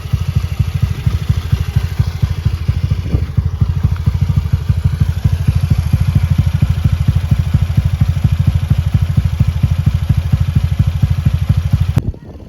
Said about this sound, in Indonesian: Suara mesinnya halus ya, adem.